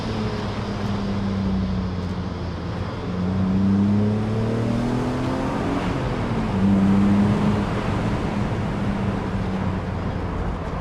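A BMW Z3 2.8 roadster's six-cylinder engine drones steadily on the road, rising and falling in pitch as it pulls through the gears, under a constant wash of road and wind noise with no voices.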